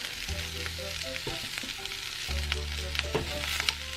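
Kumara pieces frying in a pan for Japanese curry, a steady broadband sizzle with scattered crackles and small clinks, loudest at the start and again after a brief lull, with no talking.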